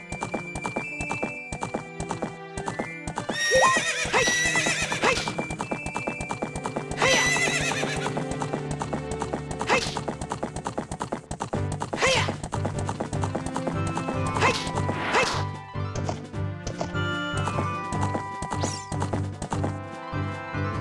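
A horse gallops with rhythmic hoofbeats and neighs in Zelda Ocarina of Time Master Quest on GameCube, loud clip-clop pacing over game music with a voice talking throughout.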